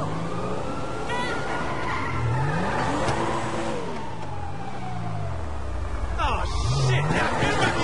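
A car in GTA V drives on, its engine revving up and down in rising and falling sweeps, with a sharper burst of acceleration near the end, close and loud under background game sounds.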